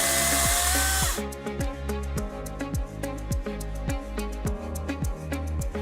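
A small battery chainsaw motor, a Cobra CS35040VX, whirs steadily with a rhythmic repeating chatter of the chain running round, loud and close with no voices.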